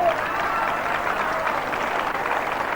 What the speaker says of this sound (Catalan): Que vaiga l'aplaudiment per a la Unió Musical Alqueriense